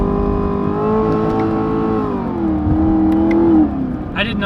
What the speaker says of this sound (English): Ready for some gnarly downshifts.